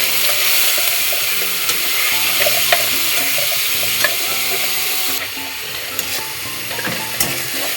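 Onions fry in hot oil with whole spices for a mutton curry, making a loud, continuous close-up sizzle. Occasional scraping and clinks from stirring punctuate it, and the frying grows a little quieter toward the end. No one speaks.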